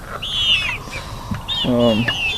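Barred Rock and Brahma chickens with mixed birds inside a farm coop, making high calls and soft clucking noises nearby while someone speaks over them.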